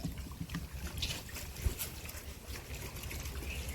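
Water sloshes and splashes as colocasia leaves are rinsed by hand, a continuous close wet swishing with occasional trickles.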